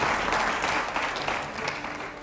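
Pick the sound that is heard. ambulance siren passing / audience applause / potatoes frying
audience applause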